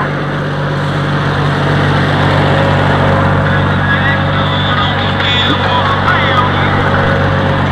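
A tractor with a wide front end pulls a fertilizer spreader across a cornfield, its engine a loud, steady drone with a constant tonal hum, while someone speaks over the noise at times.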